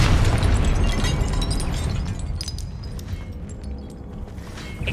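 A Confringo spell blast in Hogwarts Legacy, a loud deep explosive boom that rumbles heavily at the start and slowly fades out over several seconds.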